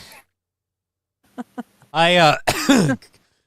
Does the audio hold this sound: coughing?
yes